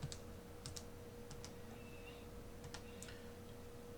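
Calculator buttons are pressed in short, quiet, uneven taps against a faint steady hum, close by and with no talk.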